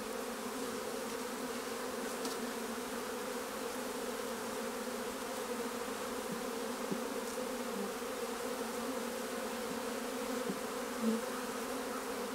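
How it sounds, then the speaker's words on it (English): Bees buzz steadily around a hive, a constant close drone of many insects with no talking. "You can see the bees congregating around that."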